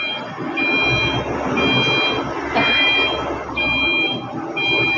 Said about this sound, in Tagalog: Maingay kasi may mga gumagawa din sa akin, may mga sasakyan na dumating